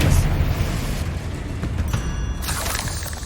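A Confringo blasting spell detonates in Hogwarts Legacy, a loud booming explosion with crackling, shattering debris that stays dense and roaring for several seconds, with a second bright burst near the end.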